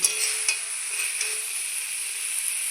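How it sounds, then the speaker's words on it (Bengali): Banana flower frying with spices in a pan gives a steady, close sizzle with light scraping stir strokes at intervals and no talk. "ভালো করে মশলার সঙ্গে কলার মতো আমি ভেজে নিয়েছি"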